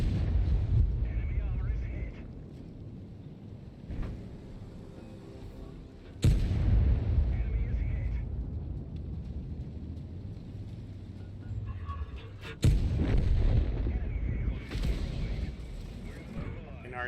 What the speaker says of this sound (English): Fucking artillery.